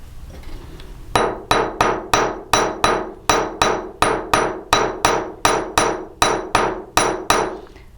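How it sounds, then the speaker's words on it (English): Rapid, even series of about sixteen sharp chasing hammer blows flattening a metal chain link, loud and close, each ringing briefly before the next strike. "So got my chasing hammer here. I'm just going to come in and"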